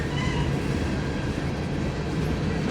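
A Montana Rail Link freight train, number 4303, led by six locomotives at Cole Road, rumbles past as a loud, steady, close roar of engines and rolling wagons.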